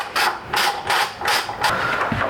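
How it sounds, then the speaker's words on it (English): Axle bolt being worked loose on a KTM Super Duke GT motorcycle, a run of five evenly spaced ratcheting bursts, each about a third of a second, close and fairly loud with no talk. "the only thing I've got to do first on this is remove the axle bolt on the other side of the bike"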